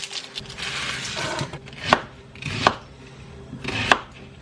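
A knife chops onion into medium pieces on a chopping board, giving a few sharp, separate thuds at an uneven pace over a soft, steady background, close and clear with no talking.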